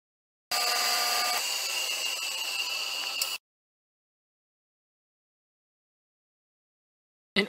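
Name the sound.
power drill drilling through wood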